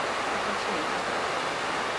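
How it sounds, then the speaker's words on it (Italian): Water flows at the springs of the Livenza river in Polcenigo, Italy, a dense, steady rushing wash that stays loud and unbroken from start to finish, with no talking over it. "In questo momento siamo alle sorgenti del fiume di Venza, in località Santissima, a Polcinigo."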